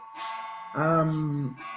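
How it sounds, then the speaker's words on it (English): A chiming clock rings a sustained, resonant bell-like tone as it strikes midday, preceded by a brief softer chime. It sounds close and moderately loud indoors. "Just wait for my chiming clock to finish."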